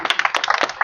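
An audience claps at an event launching the PM Surya Ghar Muft Bijli solar scheme, with a quick run of sharp, close handclaps in an uneven rhythm.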